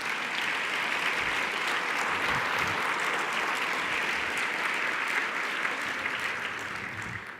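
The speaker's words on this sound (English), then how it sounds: "I think that deserves a round of applause." Steady applause from a conference general session audience, dense clapping sustained throughout and tapering slightly at the end.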